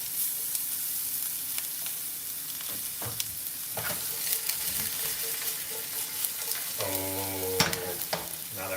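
Onions and about eight cloves of garlic fry in a pot for a trash chili, with a steady close sizzle broken by occasional stirring scrapes and clinks.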